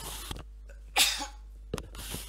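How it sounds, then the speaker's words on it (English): A single sharp, close sneeze bursts out in a quiet room, with a faint breathy intake before it and a smaller throat noise after. Nobody speaks. "bit of a sneeze there"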